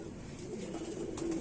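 A Kamagar pigeon of the kante-wale or jhumke-wale type, from a loft in Jammu and Kashmir, gives soft, rolling coos close by over a low, murmuring background.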